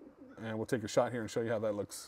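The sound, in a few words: bird sound in golf simulator driving range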